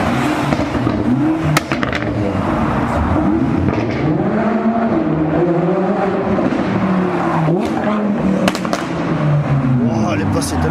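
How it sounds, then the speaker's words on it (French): A GT3 supercar on a supercar tour in Haspengouw passes very close, its loud engine rising and falling in pitch with revs and shifts, with voices in the background. "Wow, elle est passée tellement près. Une GT3."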